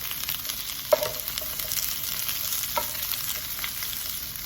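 Green beans and smoked apple sage plant-based sausage sizzle in a pan while being stirred, a continuous close frying hiss broken by a few sharp utensil knocks.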